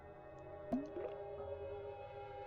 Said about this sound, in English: Oh, the bloop noise. Yeah, the plop.